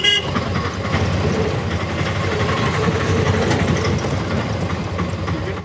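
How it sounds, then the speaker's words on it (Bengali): At a railway station in Ghatshila, a steady low rumble of trains and traffic runs throughout. A horn sounds near the start. "কোনো রকমে দৌড়ে চলে আসছি স্টেশনের মধ্যে।"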